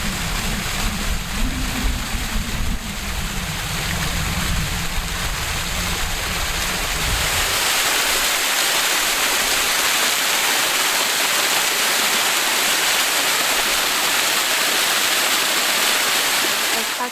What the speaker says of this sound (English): I think I'm coming up on a little tiny waterfall.